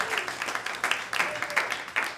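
Audience at a comedy club in New York City gives a short burst of applause with a few cheers after the comedian asks a question; moderate clapping of even loudness over about two seconds.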